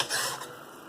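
A CPM S110V steel knife edge drawn across a sharpening stone gives a short, close scraping rasp that fades after the first half second, with no voices.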